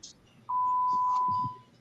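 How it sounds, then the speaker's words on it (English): A call participant's device gives one clear, steady electronic beep lasting about a second, close and alone, with faint low murmurs in the background. "And you're beeping, Cajun."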